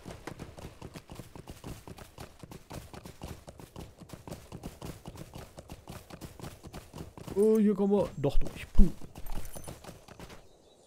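A horse ridden in the video game Lord of the Rings Online trots with rapid, steady clip-clop hoofbeats for most of the stretch, then a brief louder tonal game sound near the end; someone talks over it.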